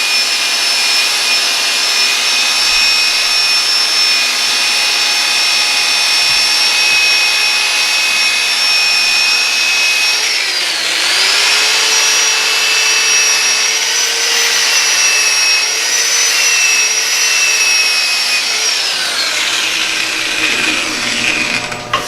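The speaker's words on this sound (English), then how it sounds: "And it does a pretty decent job of sanding." A tool handle being sanded on a running wood lathe, producing a loud continuous whirring hiss with a steady high whine that dips briefly midway and near the end, with no talking.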